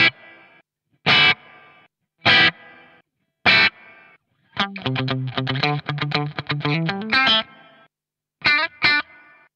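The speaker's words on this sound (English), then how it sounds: "The mode that I really like is a non-linear mode because we can get gated reverb in a guitar pedal" Electric guitar through a BOSS RV-500 pedal in non-linear gated reverb mode: loud strummed chord stabs with abruptly cut-off tails, then a rapid run of picked notes and a few final stabs, no talking.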